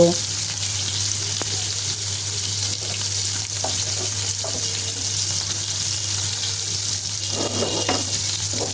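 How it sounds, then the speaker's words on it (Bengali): Fish pieces fry lightly in oil in a kadai wok with a steady, close, continuous sizzle, faint stirring and clinks over a low hum throughout. "মাছগুলো আমি খুব সুন্দর করে এপিট উপিট করে হালকা করে ভেজে নেব"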